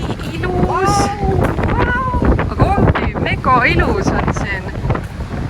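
Strong wind buffets the microphone at a seaside spot at sunset in Finland, a constant roar with people talking over it.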